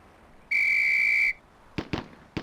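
A sharp, shrill whistle signal from the PC police tactical game Police Quest: SWAT on a firing range, one steady held blast of about a second, followed by a few quick loud gunshot-like cracks.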